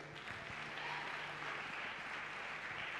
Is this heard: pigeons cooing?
no